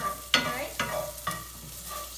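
Chicken liver sizzling in a hot pan of Caribbean curry with chili, stirred in three sharp scraping strokes over a continuous low frying hiss.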